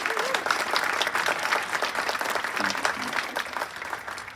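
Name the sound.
audience applause at apartment grand opening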